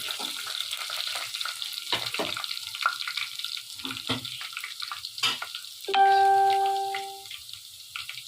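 Garlic frying in oil in a pot for mash daal, a continuous crackling sizzle with stirring scrapes and clinks, interrupted near the end by a brief ringing metallic clang.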